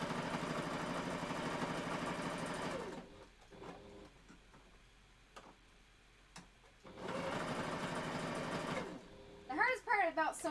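A sewing machine stitches minky fabric for a wolf tail in two bursts of about three seconds each, separated by a quieter pause with faint sounds. A voice speaks briefly at the end.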